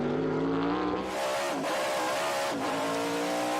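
A vintage race car at Circuit of the Americas races past, its engine note climbing and dipping through two gear shifts, loud and close throughout.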